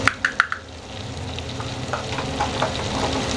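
Curry leaves, green chilies and ground spices such as turmeric, red chili powder, garam masala and coriander hit hot oil in a pan for mutton dalcha, giving a close crackling sizzle after a few sharp spoon clinks.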